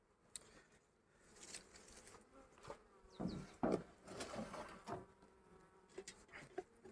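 Faint buzzing honeybees drift in and out around an open hive on a very warm day, with scattered soft knocks and rustles and a few louder buzzing passes close by.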